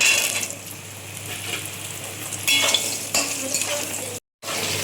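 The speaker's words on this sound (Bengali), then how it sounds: "জিরে ফোড়ন দিলাম, লঙ্কা তেজপাতা ফোড়ন দিলাম। এবার আলুটা দিয়ে দিলাম।" Potatoes dropped into hot oil already tempered with cumin, chili and bay leaf, for a cauliflower and katla fish curry, sizzling and hissing loudly with bursts of stirring, close up, with a brief cut near the end.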